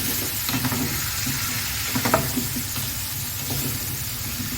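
Sliced green peppers sauté in a pan with a continuous close hiss and sizzle, broken by a few soft stirring scrapes.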